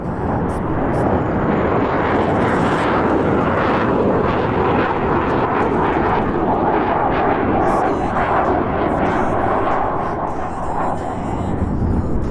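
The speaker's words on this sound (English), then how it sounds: "Those AL31 engines rumble as the reheat is engaged, pushing this aircraft up into the sky" Su-27 AL-31 engines roaring with afterburner engaged in the DCS flight simulator, a dense, loud, crackling rumble sustained throughout with deep low-end power and no letup.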